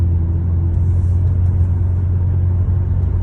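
BMW E65 730d diesel sedan from the interior while driving, a steady low engine and road rumble, loud and even, with no talking.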